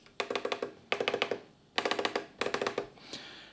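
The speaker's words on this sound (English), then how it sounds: "This is a sound of normal switch." Rapid bursts of small plastic clicks from a working play/cue switch on a Pioneer CDJ-200, several quick presses in each group, four clusters with short pauses between, crisp and close.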